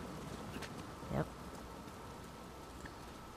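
Steady rain or rushing waterfall noise in the Uncharted 4 video game, a constant hiss filling the scene with a brief louder splash near the middle.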